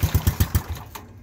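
Sears diesel lawn mower engine cold starting, five heavy rhythmic chugging thumps close to the microphone before the sound drops away, with a brief clank near the end.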